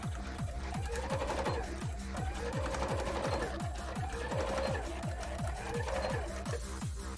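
Sewing machine doing freemotion embroidery, a fast, even mechanical chatter of needle strokes running nonstop close by, with a faint hum underneath.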